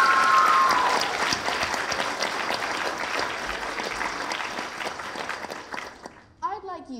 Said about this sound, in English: One last huge round of applause then, please, for Arwen, Borthwick-Hunter.